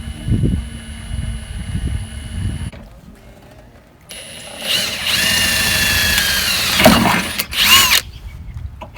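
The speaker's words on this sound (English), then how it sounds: "Yeah, I have to drill it from out of there." A power drill whirs in a long, loud, steady burst while drilling a hole in a 2000 Toyota Camry, with quieter mechanical handling and rustling before it starts.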